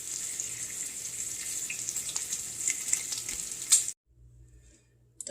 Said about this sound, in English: let's wait for the bacon to get done